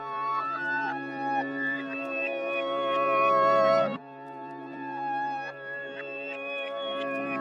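Reversed piano chords with no effects, for a dark orchestral trap melody, swell and sustain with rich harmonics. A sharp cutoff comes midway before another swelling phrase begins.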